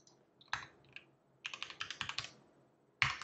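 Typing on a computer keyboard, close and clear: a single keystroke, a brief pause, then a quick run of about eight clicking keys and one final sharp press.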